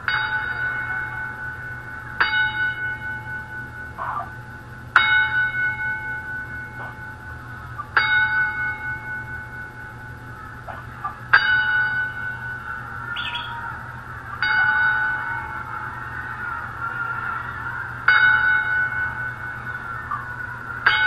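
A tribute for wrestler Dusty Rhodes at a wrestling event, with a bell tolled about eight times at slow, even intervals, each ringing strike decaying before the next in an otherwise quiet hall.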